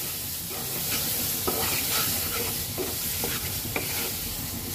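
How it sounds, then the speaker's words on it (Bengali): Spice masala of ground coriander, turmeric and salt sautéed in a pan, steady sizzling with repeated scraping strokes of a spatula at an uneven rhythm, close and moderately loud, no talking. "এখন এটাকে আমি সুন্দর মতন কষাবো।"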